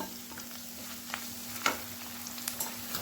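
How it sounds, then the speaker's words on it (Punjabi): Chopped green chillies dropped into a hot tadka of fried onions, a steady soft sizzle and crackle with a few faint stirring scrapes, quiet and close, with no voices. "ਦੋ ਮੈਂ ਹਰੀਆਂ ਮਿਰਚਾਂ ਕੱਟੀਆਂ ਹੋਈਆਂ ਵਿੱਚ ਪਾ ਰਹੀ ਹਾਂ"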